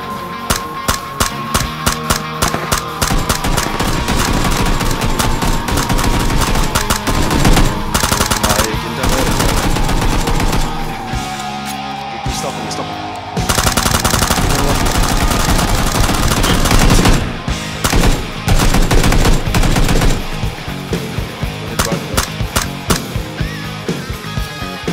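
Rapid gunfire from a PUBG match on an industrial map, dense bursts of shots running almost continuously over steady game music and engine-like drone, with a brief drop midway before the firing resumes just as loud.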